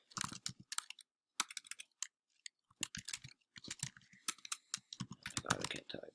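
Fast, uneven typing on a computer keyboard is heard close up: clustered clicky keystrokes in short bursts separated by brief pauses, with no voices.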